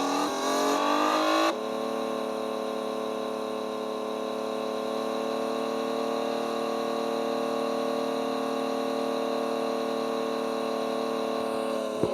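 A racing car engine from a video game drones at a high, steady pitch, jumping to a new tone early on and then holding evenly.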